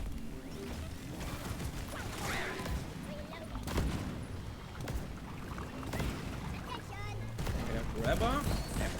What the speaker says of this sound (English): there goes the explosions